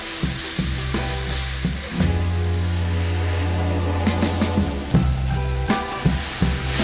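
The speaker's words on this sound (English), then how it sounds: "I don't need all the fat that's left in the pan, but I'll leave a little to fry the spice paste" Spice paste of garlic and ginger fries in a little leftover fat in a pan, sizzling loudly and steadily, with intermittent stirring scrapes and clacks across the sizzle.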